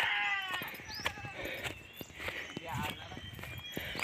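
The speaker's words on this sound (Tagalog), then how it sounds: "Bakit kaya umiiyak yung kambing ni Sir Nelson, mga kaagri?" Boer doe goat bleating and crying repeatedly in a farm pen, wavering calls heard among footsteps and rustling, with people talking close by.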